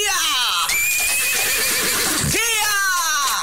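A horse whinnies loudly and close, a long rising-and-falling neigh followed by a second shorter whinny, over steady background noise.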